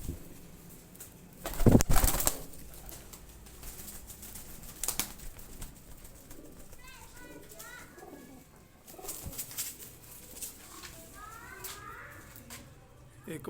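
Pigeons cooing in a group, soft repeated coos scattered through the clip with a loud burst of wing flapping or handling early on, and people talking in the background.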